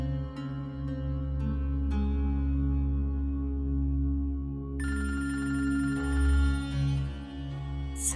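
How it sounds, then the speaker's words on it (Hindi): A telephone rings with repeated electronic chime tones over a sustained low musical bed, the ringing growing brighter and busier toward the end, with no talk. "साइमा इस वक्त क्यों फोन कर रही है?"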